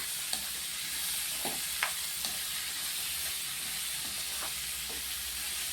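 Chopped ridge gourd with green chilli and curry leaves stir-fries in a pan, a steady soft sizzle broken by a few light clicks of stirring, with no talk over it.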